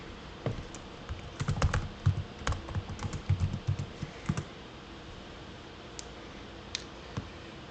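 Typing on a computer keyboard, quiet clustered keystrokes in bursts for several seconds, then a few isolated taps trailing off.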